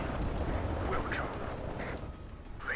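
Bombs exploding in the video game WARNO, forming a dense, continuous low rumble of blasts that rolls on without a break, loud and booming throughout.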